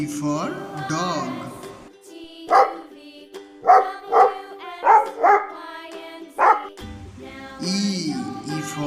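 A dog barks in a rhythmic series of five or six loud, close woofs, set between stretches of sung or spoken voice from an alphabet learning song for children.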